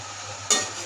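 Potatoes frying with cabbage, peas and tomato give a brief bright sizzle that jumps up sharply midway as a stir hits the pan, over a steady low hum.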